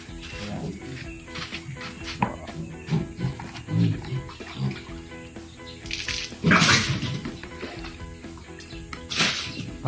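Water splashes over a backyard fattening pig during its first bath, in irregular close gushes and spattering with a few louder sprays, while animal noises come through now and then.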